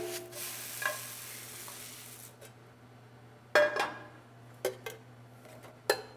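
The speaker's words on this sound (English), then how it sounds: "I'm going to give it one stir, let it sit for a couple more minutes" A soft sizzle of noodles in a wok fades early, followed by a few sharp metallic scrapes and clanks of stir frying, spaced irregularly, close by.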